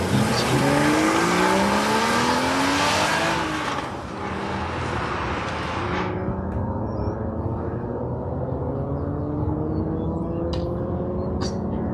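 A Mazda Miata on an autocross course revs hard through its gears, the engine note climbing and dropping in repeated sweeps. It passes nearby loud, then fades to a more distant, steadier drone.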